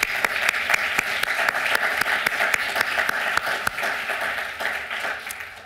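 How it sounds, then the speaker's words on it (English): An audience at an academic symposium claps steadily, with a few sharp individual claps standing out close by against the broader applause, which tapers slightly near the end. "Please join me in applauding everyone's contribution."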